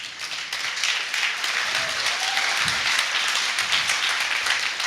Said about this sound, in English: I've never had so many applause for doing nothing before.